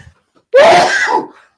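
A single loud, close sneeze erupts sharply after a brief quiet breath, then trails off quickly.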